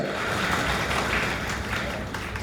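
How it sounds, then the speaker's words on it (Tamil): Brief, moderate clapping from an audience at a Tamil stage event, a steady patter of hands with no voices. "என்ன இவ்வளோ கம்மியாக கைத்தட்டுறீங்க நீங்கள்?"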